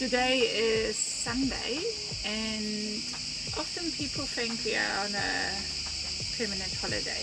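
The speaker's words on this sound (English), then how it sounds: "there's some really loud cicadas in the background, and they go through little cycles of quiet, loud, quiet, loud." Loud cicadas in a bay beside a small village in Turkey, a steady high buzzing that swells and fades in cycles, sitting constantly under a man's nearby speech.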